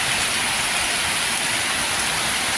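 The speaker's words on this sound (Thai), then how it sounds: "ฝนตกหนักมากครับ ลมแรงด้วยครับ" Heavy rain with strong wind pours down steadily at a roadside meatball stall, a loud, dense patter with no pauses and no talking.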